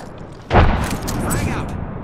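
A frag grenade explodes in Apex Legends, a single sharp boom followed by a rumbling tail, mixed with game sound and speech-like chatter.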